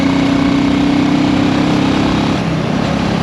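A BSA Rocket Goldstar 650 motorcycle engine drones loudly and steadily in top gear on an open road, its close, throbbing exhaust note holding nearly constant with heavy wind rush.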